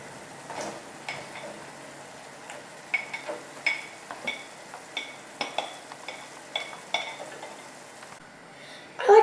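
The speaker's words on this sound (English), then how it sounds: "it's a perfect time to put the guanciale back into the pan" Guanciale goes back into a pan with nearly al dente pasta for Amatriciana, giving a series of sharp stirring clinks and scrapes over a low, steady sizzle, with a louder clatter at the very end.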